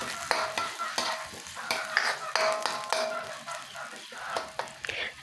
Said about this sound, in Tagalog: Gisayin lamang natin ito ng 1 minuto or hanggang sa lumambot na ang sibuyas